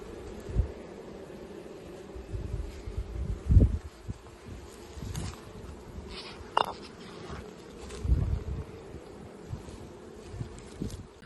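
A steady buzzing drone of many bees fills the air, with louder insects passing close now and then over soft outdoor rustle.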